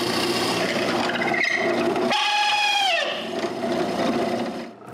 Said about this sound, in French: Pour faire ça, j'utilise une de mes super longues mèches